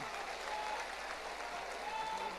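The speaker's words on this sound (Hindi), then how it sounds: "तालियों की गड़गड़ाहट से इनका हम उत्साहवर्धन करें।" A large crowd at a religious gathering on the Dussehra ground in Guna applauds in a continuous, even roar of clapping, somewhat distant and fairly faint, with a thin tonal line running through it.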